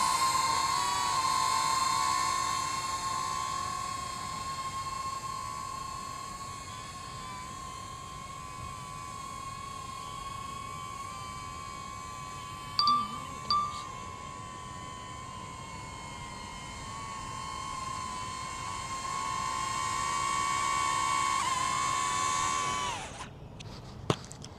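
A small DJI Neo 2 drone flies outdoors near trees, giving off a steady high-pitched propeller whine with a layered tonal hum that holds evenly, with a few brief knocks midway and an abrupt stop at the close.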